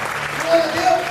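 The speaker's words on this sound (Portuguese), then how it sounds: "Você pode aplaudir o Senhor com alegria." A church congregation applauds during a sermon, producing a continuous wash of clapping and crowd sound, with voices mixed underneath through a short moment.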